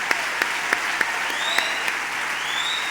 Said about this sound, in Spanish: ¡Un aplauso para ellos, gracias!